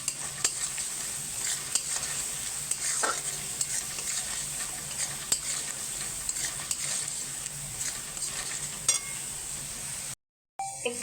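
Onion masala with Kashmiri chilli frying for chicken curry, a continuous bright sizzle broken by repeated spoon scrapes and clicks against the pan, then cutting out abruptly near the end.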